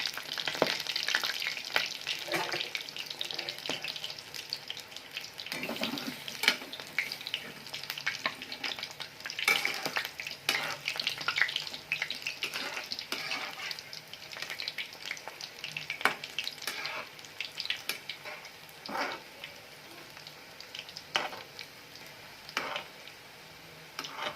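Sweet corn fritters sizzling in hot oil as they are turned over, a continuous close frying hiss broken by clicks and scrapes of the utensil, no voices.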